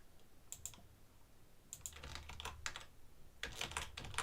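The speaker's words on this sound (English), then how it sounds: "So you're just hearing me typing again." Quick bursts of computer keyboard typing, close and fairly quiet, with short pauses between clusters of keystrokes.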